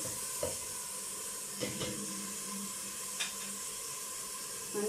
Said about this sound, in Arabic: نسوي كده البصلة، لازم لونها يدبل شوية